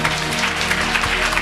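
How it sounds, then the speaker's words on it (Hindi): Congregation clapping loudly at a Hindi-language Christian healing testimony service, dense continuous applause filling the whole moment with faint musical tones beneath. "यीशु के लिए जोरदार ताली बजाएं।"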